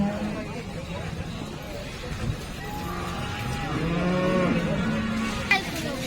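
A Gir cow lets out a long, drawn-out moo amid a busy outdoor cattle market crowd, with people talking nearby and vehicle noise in the background.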